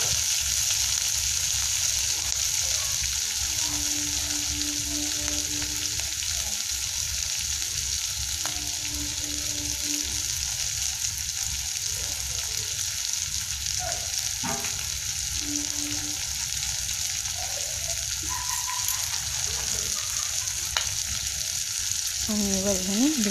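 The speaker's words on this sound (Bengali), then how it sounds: "পেঁয়াজটা আমার মোটামুটি হয়ে গেছে।" Onions frying in a pan for chilli chicken, a steady close sizzle running throughout with occasional stirring scrapes and soft clinks.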